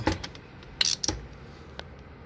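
Sharp ratchet-wrench clicks tighten bolts on the stator cover of a 2005 Yamaha Wolverine 350 ATV, a few quick close bursts with short pauses between them.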